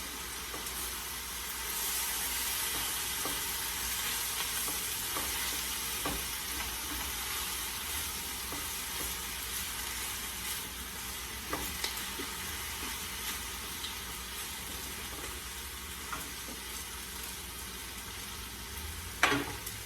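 Mushrooms and spinach fry in a skillet for a vegetable omelet, giving a steady, even sizzle throughout with occasional faint clicks of stirring and no talk.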